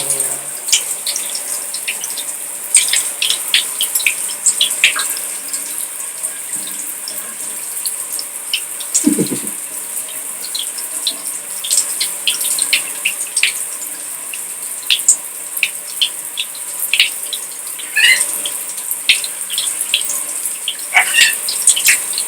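Running shower water for a macaw and a cockatoo: a continuous hiss of spraying water close by, with scattered splashes and drips and a brief low knock partway through, and no talking.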